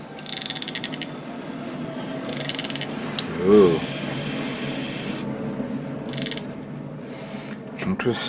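An airbrush sprays thickened yellow VicHobby hobby paint in a short hissing burst of about two seconds midway, with fainter brief hisses before and after over a low background hum.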